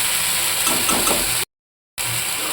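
Water poured into a fish curry spice paste of cumin-ginger paste, chili paste and turmeric in a pan gives a steady, loud hiss of sizzling and steam, broken by a brief silent gap partway through.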